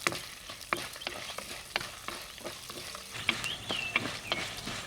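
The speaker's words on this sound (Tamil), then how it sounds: "இது எல்லாத்தையும் வந்து கொஞ்சம் வாசனை வர அளவுக்கு வறுத்துக்கலாம்." Whole spices dry roast in a pan: cumin, pepper, bay leaf, dried chilies, mace, star anise and cinnamon. A spoon stirs and taps them with soft, irregular scrapes and a faint crackle, quiet and close.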